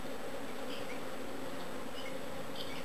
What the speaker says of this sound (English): I can see they're not very happy bees